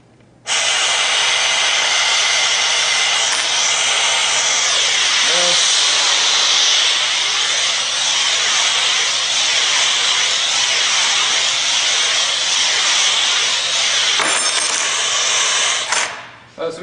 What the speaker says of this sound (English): let me just get them aligned correctly so that I'm actually pulling vacuum on the parts and not the table.